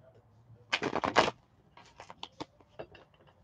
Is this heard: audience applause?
no